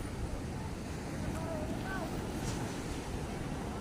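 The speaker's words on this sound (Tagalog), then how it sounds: "Gawa ng kita nyo naman, may alon." Waves on the open sea wash steadily around a small fishing boat in rough, worsening weather, a continuous broadband surge mixed with wind buffeting the microphone and no clear talk.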